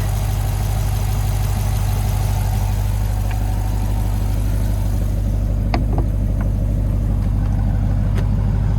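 The 6.7 liter V8 of a 2027 Chevrolet Corvette Stingray coupe idles close by with a deep, steady burble and strong low rumble, plus a few brief clicks near the end.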